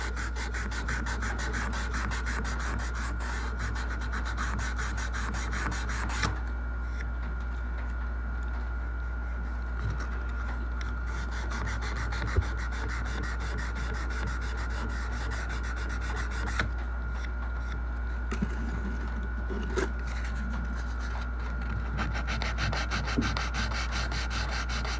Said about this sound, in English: We'll do a little mild sanding. I've got some 220 here.